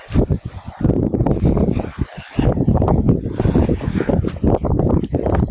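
Strong wind blows on the seashore, roaring and buffeting the microphone in loud, uneven gusts, with constant low rumble and brief lulls, and no clear talk over it.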